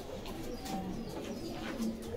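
Pigeons coo steadily at a market stall where they are being sold, the soft repeated calls sitting amid a busy, noisy background.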